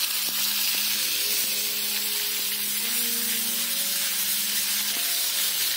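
Ginger garlic paste fries in about four tablespoons of hot oil with mustard seeds, cumin and asafoetida, giving a steady, dense sizzle close up, with a faint hum in the background and no voices.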